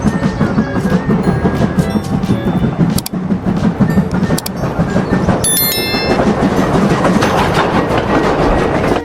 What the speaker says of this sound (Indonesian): ini sih namanya kereta Thomas